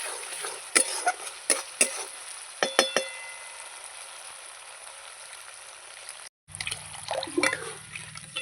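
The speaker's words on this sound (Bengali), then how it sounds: "এবার জল দিয়ে দেবো" Water poured into a yogurt-spiced masala for egg curry, with a few clinks at the start, then a steady hiss of liquid meeting the hot spiced mixture and a brief bubbling sizzle near the end, close and alone.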